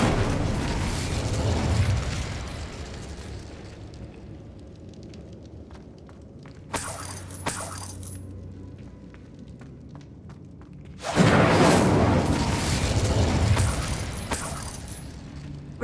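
A fire spell cast in Hogwarts Legacy, heard as two loud whooshing bursts of flame, one brief around the middle and a longer roaring blast near the end, over a low game ambience.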